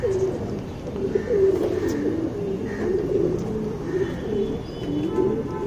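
Young tournament pigeons coo in repeated low, soft, rolling phrases, with a few faint chirps over a quiet background and no talking.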